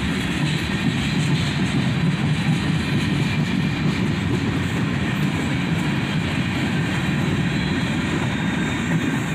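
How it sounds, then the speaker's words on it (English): A CSX freight train rolls steadily past at close range, its last cars including a gondola going by, producing a continuous heavy rumble with faint wheel clatter and no voices throughout. "And finally, the end of the train goes by."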